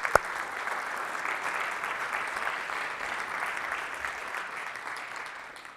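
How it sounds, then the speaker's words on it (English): An audience at a music production masterclass breaks into sustained applause after a sharp opening clap, holding steady and then tapering off toward the end. "let's give him a round of applause"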